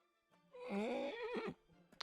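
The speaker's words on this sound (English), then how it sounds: "oh, the poor horse." A horse neighs loudly in an anime scene, a single drawn-out whinny with a wavering pitch that lasts about a second, followed by a few faint thuds.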